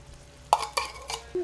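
Mutton biryani made with seeragasamba rice being stirred with salt in a pot, a few distinct scraping and clinking strokes of a spoon against the vessel, close and clear over a quiet background.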